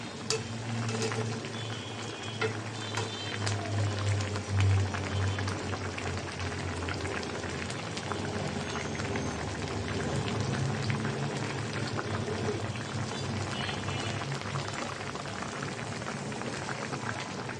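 A pan of koi (climbing perch) fish curry bubbling and simmering nearby, a soft continuous hiss and gentle popping with a low background hum.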